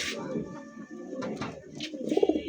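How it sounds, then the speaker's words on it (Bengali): A large male pigeon, kept with other pigeons for sale, gives close, repeated throaty coos that swell louder toward the end, with a voice talking faintly underneath. "নরের একটু ভাই ডাকটা শোনার চেষ্টা করতেছি দেখেন"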